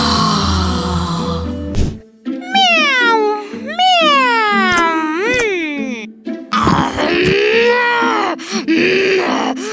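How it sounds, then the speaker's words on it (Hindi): Cat meowing repeatedly in several drawn-out, rising and falling cries, loud and close, with some moaning, groan-like calls mixed in and a few short breaks between them. "क्या हम घर पे जानवर रखने वाले हैं? बिल्ली और मिली।"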